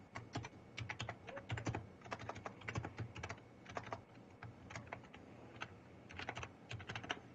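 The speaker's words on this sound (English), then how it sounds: "Here, let me type it up." Rapid, uneven keystrokes clatter on a computer keyboard, quiet and close, in continuous bursts with brief pauses and no voices.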